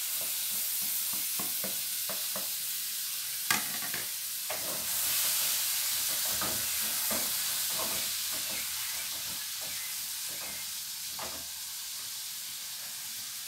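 Tomato and bell pepper frying in a pan over onion and garlic for a homemade sauce, with a steady close sizzle and hiss broken by repeated scraping and stirring clicks.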